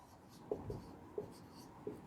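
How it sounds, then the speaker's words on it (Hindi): An answer is written by hand in short, quiet strokes, a few soft taps and scratches spaced about half a second apart, close and faint with no talking. "तो यहाँ पे उत्तर 3 लिखते हैं"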